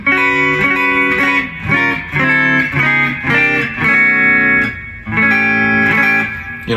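Distorted electric guitar chords through a Line 6 POD Go amp modeler with reverb ring out with a washy, effected tone, strummed in a steady rhythm and sustaining between hits, loud and close.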